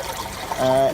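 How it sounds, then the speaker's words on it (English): Water trickling through a homemade koi pond filtration tank toward a bio chamber, a brief, close, steady dribble that swells into a fuller pouring flow near the end. "So you've got the water running around the side, going through to the middle, and then going through to the bio chamber"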